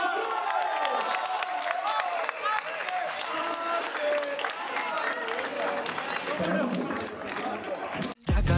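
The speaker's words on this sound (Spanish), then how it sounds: "Un aplauso para el Jota" Applause and cheering from a crowd at a rap battle quarter-final fill the clip, dense and continuous, with voices mixed into the clapping until it cuts off near the end.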